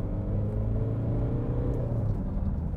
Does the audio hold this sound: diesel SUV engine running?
yes